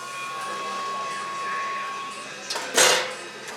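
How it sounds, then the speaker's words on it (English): A dairy milking machine's vacuum pump, drawing about 14 pounds of vacuum, runs with a steady close mechanical hum and faint whine, then gives a short hissing burst near the end. "Milk machine has a vacuum in it."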